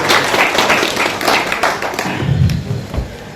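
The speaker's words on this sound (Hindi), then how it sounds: "सब ताली बजाकर वेलकम करें।" An audience at a Qureshi community conference in Delhi claps to welcome a chief guest onto the stage, loud, uneven hand claps and thuds clustered close, thinning toward the end.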